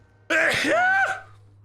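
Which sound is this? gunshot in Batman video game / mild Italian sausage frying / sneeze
sneeze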